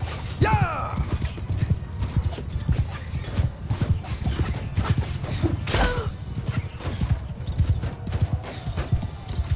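Horses gallop with steady clip-clop hoofbeats in a Mount & Blade II Bannerlord battle, a whinny rising near the start, under constant battle din and a voice at moderate loudness.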